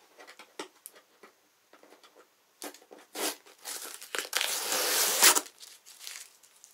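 Plastic packaging crinkles and tears as a Neet Tokyo hoodie is unboxed indoors, with scattered soft rustles building to a denser crackling tear near the end, close and fairly quiet.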